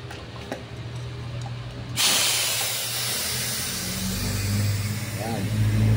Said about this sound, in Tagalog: So ganun lang ang pagtitest ng compressor, no?